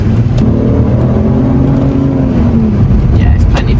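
Volvo S80 with around 300 hp accelerating hard up a tight slip road onto the A34, heard from inside the cabin as a steady, loud engine drone with a rising tone, with people talking over it.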